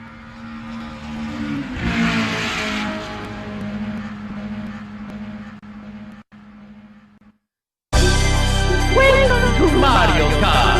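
Mario Kart video game intro with kart engine sounds: a sustained engine drone and revving under music-like tones, a brief gap of near silence, then a loud burst of bright, dense game sound.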